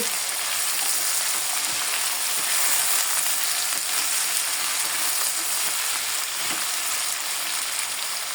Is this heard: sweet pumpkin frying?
yes